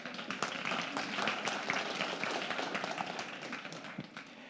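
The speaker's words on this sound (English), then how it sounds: "Let's give it a round of applause for everyone who has been on stage today." Audience applause at the CMS21 conference for the day's stage speakers: dense, steady clapping from a crowd filling the hall, fairly even throughout with scattered sharper claps and a slight fade at the end.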